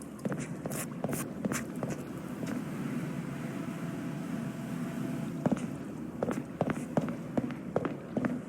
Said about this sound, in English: Listen to that echo from the footsteps